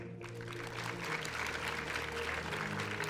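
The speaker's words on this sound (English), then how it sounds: "Let's give them a huge round of applause." Audience applause at the opening ceremony of the 2020 Taiwan International Science Fair, clapping that swells after a brief quiet start and continues over a steady low musical hum, with no speech heard.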